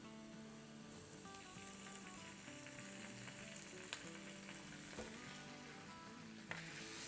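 Garlic and ginger paste frying in hot oil, a steady close sizzle with a few sharp clicks of stirring, alone without talk.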